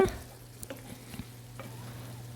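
Goat lung gravy being stirred in a pan, with a soft sizzle under a few light scraping and tapping strokes of a spoon against the pan, quiet and close.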